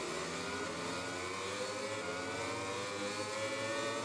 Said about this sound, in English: here's Stone revving up from the back of the grid